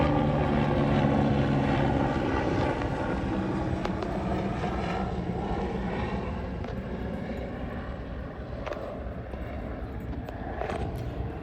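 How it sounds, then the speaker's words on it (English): A helicopter passes overhead outdoors, its rotor and engine drone loud at first and then slowly fading as it moves away, with no talk over it. "I'm gonna let this helicopter pass."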